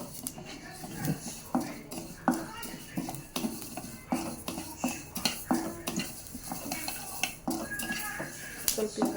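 Flax seeds roasting in a dry pan for a homemade mouth freshener, giving a steady run of small crackles and pops with scraping, clinking stirring close by.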